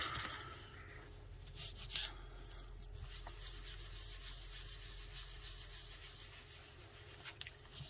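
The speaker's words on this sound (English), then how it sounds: "So rub and rub and rub and rub it up." Packaging paper rubbed by hand onto a Gelli printing plate, faint repeated scratchy rubbing strokes close to the microphone, with no talking.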